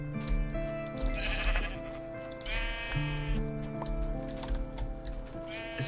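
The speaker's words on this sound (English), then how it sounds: "Sheep!" Blocky Minecraft sheep bleat repeatedly in a wavering, tonal cry, close and clear over a steady game background with a faint voice underneath.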